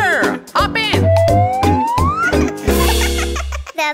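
Cartoon police car siren from a children's song, a rising wail set against bright music and sung voices, loud and up front across the short passage.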